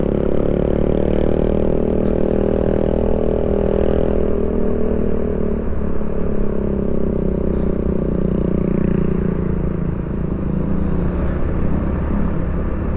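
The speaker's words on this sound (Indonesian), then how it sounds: "ngarep ki motornya kenceng tenan suara mesinnya. Suara knalpotnya ding" Motorcycle engine and exhaust heard from the rider's position on a road trip between Sukorejo, Kendal and Bawang, Batang, a loud steady drone with rushing wind and slight shifts in pitch, no talk.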